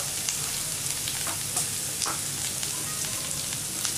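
Sliced onions fry in a little oil in a pan for cauliflower poriyal, a dense, loud, continuous sizzle broken by frequent crackles and stirring scrapes.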